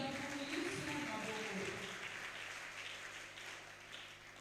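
A church congregation applauds in praise during a French-language Sunday service, a steady wash of clapping that fades slightly toward the end, with a voice over it.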